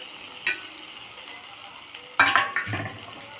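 Crushed turkey berries (sundakkai) stirred in a frying pan: a low background sizzle broken by a few scraping strokes of a spoon against the pan, the clearest near the end.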